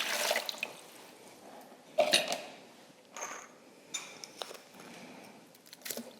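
Warm water is poured into a bowl for bagel dough, with splashing bursts and trickling liquid sounds coming in uneven waves, close and fairly quiet.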